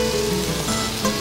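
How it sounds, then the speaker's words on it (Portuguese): Dry white wine is poured into a hot paella pan, raising a steady, dense hiss and sizzle throughout, with no talking. "Agora a gente entra com vinho branco seco."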